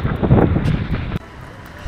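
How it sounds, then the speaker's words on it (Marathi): Strong wind buffets the microphone outdoors at Panhala during rain, a loud, rough rumble for about a second before it suddenly drops to a quieter rush. "पाऊस तुम्ही बघताय वारा तुम्हाला जाणवतोय, वारा बराच आहे"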